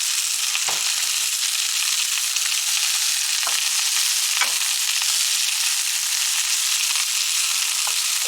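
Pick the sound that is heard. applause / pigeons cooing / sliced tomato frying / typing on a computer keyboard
sliced tomato frying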